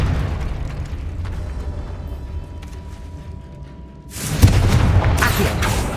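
A Confringo spell explosion from the Hogwarts Legacy video game bursts in after a quiet, murky stretch, a sudden loud boom that gives way to a sustained crackling, rumbling roar.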